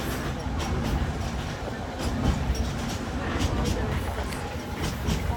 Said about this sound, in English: from a train en route to Inle Lake, Myanmar